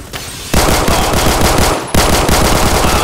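Automatic gunfire from the Roblox shooter Phantom Forces, two long loud bursts of rapid rounds separated by a brief gap, close and dominant with no talk.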